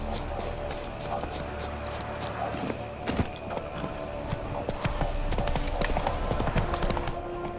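Horse hooves clip-clopping at a steady gait while riding in The Witcher 3: Wild Hunt on PlayStation 5, rhythmic close hoofbeats with faint jingling tack over a low ambient bed.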